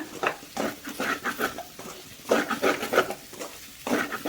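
Partly cooked potatoes being stirred in oil in a pan over a high flame, with quick repeated scraping strokes of a spoon in short bursts, close and fairly loud.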